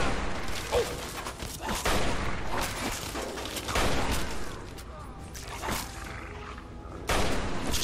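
Rapid gunfire and booms from combat in the video game Fallout 3, bursts of shots and impacts scattered across the span with a voice talking intermittently underneath.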